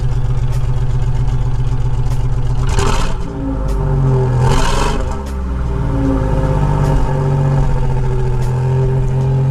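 Toyota 4Runner engine, down one cylinder, idling roughly and then given two short throttle blips that swell and fall back, close and loud, with no voices over it.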